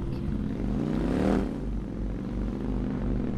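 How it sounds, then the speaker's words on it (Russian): Motorcycle engine in the Watch Dogs 2 video game, a low droning hum that rises to a brief revving swell midway and then settles back into a steady rumble. "Кстати, как вам звук мотора?"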